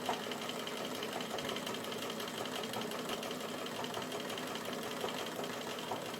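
A sewing machine runs a straight stitch along the edge of a lining, a faint, steady rapid whirring chatter that continues without pause.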